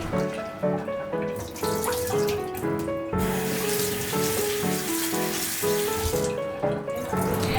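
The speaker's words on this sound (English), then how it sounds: "Then wash them and don't forget to put them into the water again." Eggplant cubes washed under running water in a kitchen sink, a steady faucet stream splashing and trickling throughout, with brief pauses and a bright rush returning near the end.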